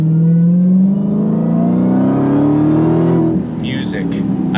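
Dodge Challenger Demon engine revs up in one sustained climb lasting about three seconds, loud and close, then drops back to a steady rumble.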